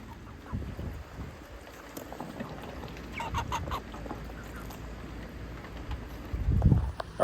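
Meat chickens about eight weeks old cluck and murmur softly in a pen, scattered low calls over faint rustling, with a louder thump or close knock near the end.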